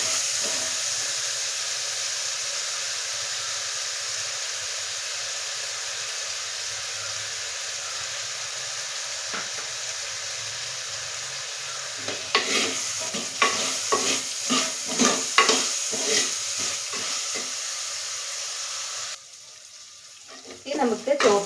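Chopped ginger sautés in oil for sadya-style puli inji: a steady, even sizzle gives way midway to a run of rhythmic spoon scrapes and stirring, then briefly quiets before stirring resumes.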